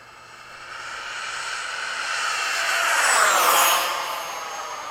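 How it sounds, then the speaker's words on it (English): A Freewing 90mm RC jet, an F-22 or Yak-130, sweeps past outdoors after sunset with a rising and fading turbine whoosh that peaks loud mid-pass and then trails off. There is no talk. "I'm gonna do one more downwind pass once you're done."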